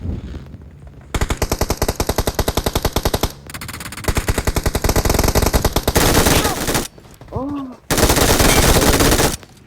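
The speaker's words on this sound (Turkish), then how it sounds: "Bana sıkıyor bana." Automatic gunfire aimed at the player in PUBG Mobile, with rapid loud bursts of machine-gun fire in long stuttering volleys and brief gaps, very close and dominant.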